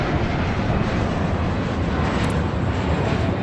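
A steady, dense jet-engine roar of an airplane taking off in the video game Airport Madness holds without a break, loud and close.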